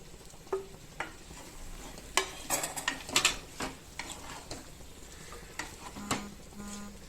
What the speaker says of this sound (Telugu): ముక్కలంతటికి తాలింపు పట్టేలాగా కలిపేసుకోవాలి